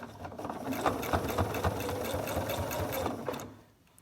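A sewing machine stitches binding along a quilt edge, running steadily for about three seconds with a fast rhythmic needle clatter close by, then slowing and stopping.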